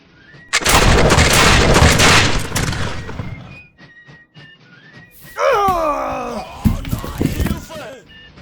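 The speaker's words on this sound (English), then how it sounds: "German unit was greeted with ferocious fire from rebel skirmishers hidden safely behind wooden fence" Ferocious gunfire from rebel skirmishers hidden behind a wooden fence in a tabletop wargame battle effect, a loud burst of shots followed by scattered cracks, groaning cries and another volley.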